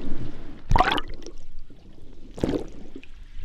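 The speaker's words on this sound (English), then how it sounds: "I really like the noise or the sound when I'm holding it and then bloop, and then I bring it into water" An Ambient ASF2 MK2 hydrophone on a 10-meter cable is dipped into water, giving two distinct splashy bloops about two seconds apart over a quiet underwater background.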